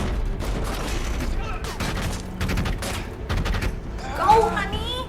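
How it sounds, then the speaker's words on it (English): Dense bursts of gunfire from a battle scene in the TV series The Expanse roll on continuously under excited talk and shouting, with a louder burst near the end. "Did Amos get shot?"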